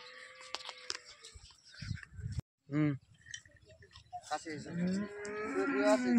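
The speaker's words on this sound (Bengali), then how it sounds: "আমরা আজকে গরু লোড দিচ্ছি ঢাকা নারায়ণগঞ্জের উদ্দেশ্যে" Cattle being loaded onto a vehicle bound for Dhaka and Narayanganj give a couple of close, loud moos amid clattering and handling noises, with people talking nearby.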